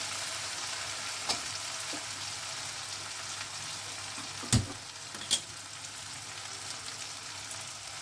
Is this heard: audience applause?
no